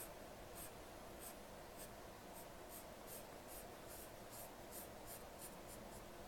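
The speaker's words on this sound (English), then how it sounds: "So I'm going to color in the half." A pen colors in a drawn fraction model, giving a steady, close scratching with quick repeated strokes throughout, soft and unaccompanied by talk.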